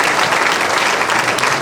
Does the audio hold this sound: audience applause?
yes